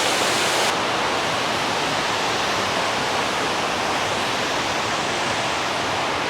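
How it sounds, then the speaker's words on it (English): Water from a dam spillway pours into a Tennessee state park creek, a loud, continuous broadband rush that holds steady and close throughout, with no voices. "the sounds of the waterfalls coming out of the dam behind us"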